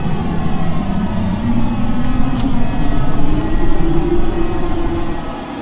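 A Boeing T-45C Goshawk jet in the FSX flight simulator runs with a steady, loud engine roar and rumble that holds throughout, with no one speaking.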